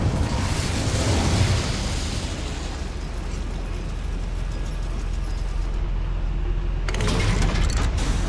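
Incendio fire spell cast inside a goblin mine in Hogwarts Legacy, a whooshing burst of flame that roars then fades, followed by another short blast near the end.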